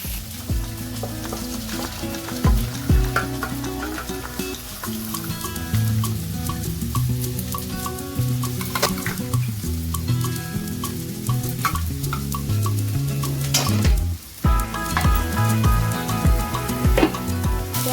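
Greens fry in a pan with a busy sizzle and frequent clanking, scraping strokes of a spoon stirring them, fairly loud and close, with no one speaking.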